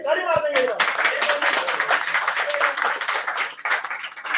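Scattered clapping from a small group of people in a room, a steady patter of hand claps with voices talking over it.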